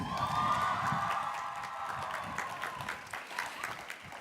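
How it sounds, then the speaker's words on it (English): Commencement audience at a 2019 College of Education & Integrative Studies graduation breaking into sustained applause, a dense wash of clapping with some cheering, loudest at the start and gradually thinning. "Let's offer them a round of applause."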